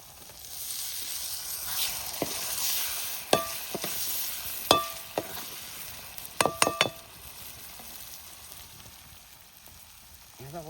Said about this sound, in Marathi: आता टमाटर टाकतो.